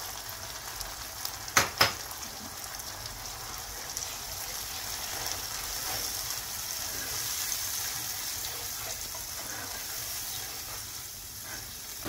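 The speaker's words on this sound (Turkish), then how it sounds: "Domatesimizi 5 dakika kavuralım arkadaşlar." Diced tomatoes frying with onions in a pan for a vegetable bulgur pilaf, giving a steady soft sizzle throughout, with a couple of brief clatters near the start.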